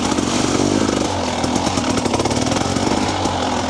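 A TBI motorcycle engine runs at slow trail speed with a close, loud, rough, uneven putter that stutters and stumbles continuously under light throttle.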